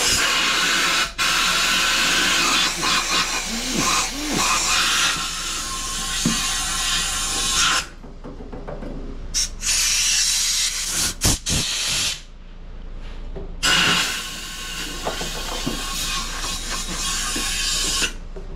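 Compressed air blasts hiss loudly into the emptied fuel tank of a Kohler Courage mower engine, long steady bursts broken by two brief pauses.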